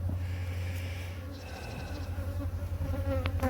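Korean native honeybees of a resistant Halla strain buzz densely around an outdoor hive, a steady close swarm hum with a few individual bees flying past near the end.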